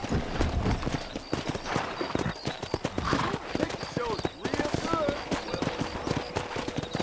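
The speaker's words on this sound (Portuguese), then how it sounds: "Let's see if we can't wrangle some horses." Horses in Red Dead Redemption trot and clop close by, a busy stream of hoofbeats with a brief whinny, while voices talk over them.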